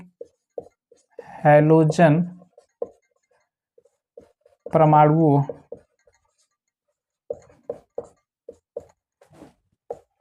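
A pen or chalk writes on a board in a chemistry class, making scattered short scratchy taps and strokes between two bursts of a voice.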